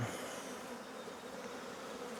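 Honey bees buzz around an opened hive during an apiary inspection, a faint, steady drone with no voices.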